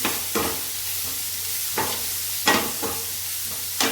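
Tomatoes and onions are sautéed in a pan over a low, steady sizzle. Several distinct scraping stir strokes land close by at irregular intervals, with no one talking.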